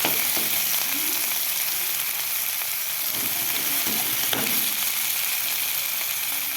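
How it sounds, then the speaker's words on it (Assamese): Chopped onion, green chili and a large tomato fry in a kadai, giving a steady, fairly quiet sizzle that runs unbroken throughout, with faint stirring. "ইয়াতে মই পিঁয়াজ, জলকীয়া আৰু এটা ডাঙৰ চাইজৰ বিলাহী কাটি লৈ অকণমান ভাজি ল'ম।"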